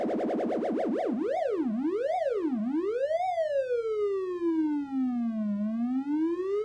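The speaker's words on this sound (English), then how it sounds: "a simple, in this case, a triangle waveform with an LFO control oscillator set up to do simple frequency modulation" A synthesized siren made from a triangle waveform whose pitch is swept by an LFO, wobbling fast and then gliding in slower, wider rises and falls, steady and loud, with no other sounds.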